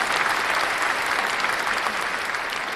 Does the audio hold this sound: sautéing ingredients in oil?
no